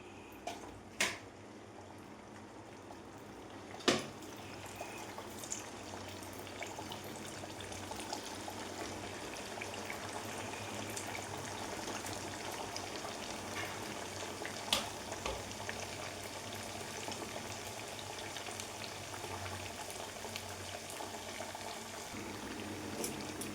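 Mango and carrot vada fry in hot sunflower oil in a kadai, a steady close bubbling sizzle with a few sharp clinks and taps over the continuous crackle.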